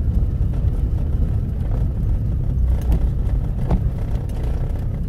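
A Jeep with an AW-4 automatic transmission rolls slowly to a stop, heard from inside as a steady, loud low engine and road rumble that holds even throughout, with no one speaking.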